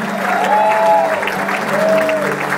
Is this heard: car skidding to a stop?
no